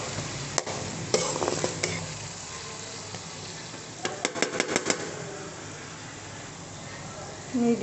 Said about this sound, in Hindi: मीडियम फ्लेम पे हम इसको थोड़ा जो है भून लेंगे अच्छी तरह।